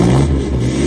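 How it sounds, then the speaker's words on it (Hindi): A modified Toyota Fortuner's exhaust gives a loud, close, steady deep rumble during a short rev. "ये चेक करो गाड़ी की एग्जॉस्ट की आवाज सुनो"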